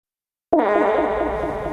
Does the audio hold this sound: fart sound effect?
yes